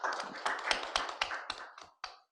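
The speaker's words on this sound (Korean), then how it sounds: "큰 박수 부탁드립니다." Scattered audience applause at a Korean school-credit presentation event: a few separate claps that thin out and stop within two seconds.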